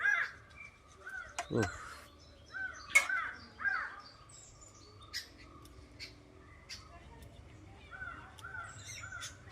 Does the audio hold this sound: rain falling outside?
no